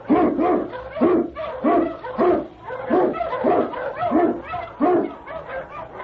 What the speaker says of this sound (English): King, the swiftest, strongest of Eskimo lead dogs, blazes the trail through storm and snow